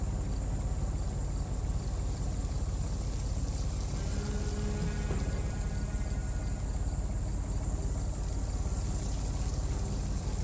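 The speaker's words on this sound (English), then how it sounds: "There's oil leaking from the pump's engine." A pump engine drones steadily and continuously at a moderate distance in a stone-pillared site at Gobekli Tepe, Turkey, in the game Secret Files 3, its low hum blended with a broad hiss.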